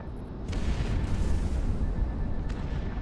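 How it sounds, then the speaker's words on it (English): Aircraft cannon fires in the VR jet combat game Project Wingman, a dense, sustained roar of rapid gunfire that starts after a brief moment and runs loud to the end. "Gunfire."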